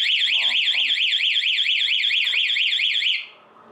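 Anti-theft alarm on a Honda Scoopy motorcycle wailing loudly with a rapid, repeating warbling siren that runs steadily for about three seconds, then cuts off abruptly; a few faint voices sound underneath.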